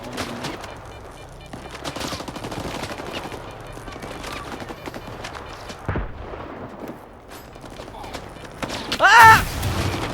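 Gunfight in the video game STALKER 2: dense bursts of gunfire and rapid automatic shots crackle continuously over a busy background, with a loud blast near the end.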